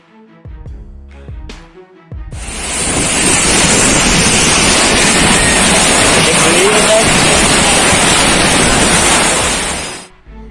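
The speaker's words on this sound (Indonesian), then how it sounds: "Hujan dan angin kencang di Riau." Loud, steady roar of heavy rain driven by strong wind in Riau, Indonesia, rushing in after a brief quiet start, a dense broadband wash that holds for several seconds before cutting off.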